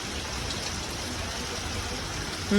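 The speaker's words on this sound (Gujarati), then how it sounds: "ધીમો થઈ ગયો વરસાદ એકદમ જો ધીમા ધીમા વરસાદ" Light rain falling during a stormy spell makes a soft, even hiss, with a faint tonal sound rising at the very end.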